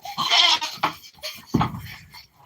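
Baby goats bleating on an off-grid farm, several short, loud, wavering cries close by in quick succession, with quieter bleats between them.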